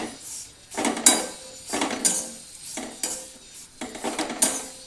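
Dagad phool (stone flower) roasting in a little oil in a pan for Maharashtrian kala masala, stirred with a utensil in repeated scraping strokes about once a second, close and clear with no talk.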